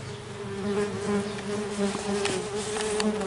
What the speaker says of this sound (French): on va stopper l'hémorragie de sortie des guêpes